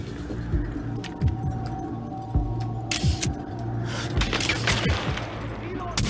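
Gunfire from the video game Far Cry 4 in a fight against enemies, one of them a sniper: repeated sharp shots and short bursts ring out over a few seconds under a continuous game background, while a player talks.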